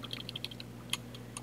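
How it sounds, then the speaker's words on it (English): Typing on a computer keyboard while coding, with a run of light, irregular key clicks at low level, one slightly sharper stroke near the middle, over a steady low hum and no talk. "trouble with typing."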